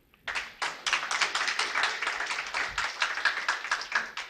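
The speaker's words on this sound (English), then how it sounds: "If it's possible, you can clap for them." Audience clapping at an architecture week event in Rwanda, starting abruptly and continuing as steady, moderately loud applause from a modest crowd for about four seconds.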